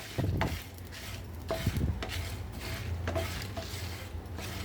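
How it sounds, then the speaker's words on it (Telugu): Dry prawns and curry leaves are fried and stirred in a pan, giving scattered scrapes and clinks of a utensil against the metal over a soft background, with no talking. "ఇవి ఇట్లా దోరగా వేయించుకోవాలన్నమాట."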